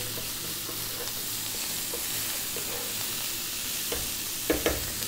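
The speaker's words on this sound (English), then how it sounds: "Now let's drop in our paneer or our cheese." Paneer cheese sizzles and fries in a hot pan for Indian matar paneer, a continuous bright crackling hiss with a few sharper pops and stirring clatters near the end, close and fairly loud.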